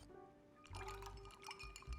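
A mixed drink being stirred in the Honkai: Star Rail bartending minigame: a short swirl of liquid with light glassy clinks, faint and brief over soft tonal background music.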